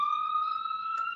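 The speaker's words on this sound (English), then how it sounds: "this ambulance is passing by" An ambulance siren sounds as it passes, a loud steady high wail with bright harmonic overtones, heard alone.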